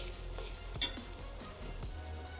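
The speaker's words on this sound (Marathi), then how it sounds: "आता ही सावकास भाजायचं सतत मिक्स करीत राहायचं" Grated fresh coconut roasting in a pan while being stirred continuously, a soft steady sizzle with light scraping strokes and one sharp clink near the start, fairly quiet and with no voices.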